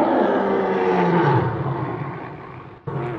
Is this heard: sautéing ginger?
no